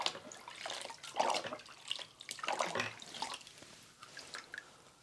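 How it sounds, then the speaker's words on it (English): Warm tap water runs and splashes while the intake port of a Ryobi SWIFTClean spot cleaner is washed out, a continuous close splashing with uneven drips and gurgles and no talking. "So this is just warm water."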